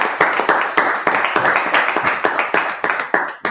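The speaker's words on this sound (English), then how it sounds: "let's clap it up" Congregation at a Sabbath service claps in a quick, regular rhythm, sharp near hand claps repeating about three times a second and mostly free of talk.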